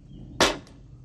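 A toy gun fires a single sharp, close crack at a bullseye target during a game-show challenge, a brief burst that decays quickly over a quiet background.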